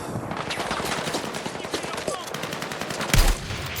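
Rapid gunfire bursts at a target in the video game Battlefield 6, a dense crackle of shots with a heavier blast near the end, over constant battle noise.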